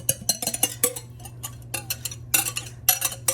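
Wet ingredients are stirred into a dry batter with a utensil, producing quick irregular clicks and scrapes against the bowl in short bursts, close and fairly quiet, with no talking.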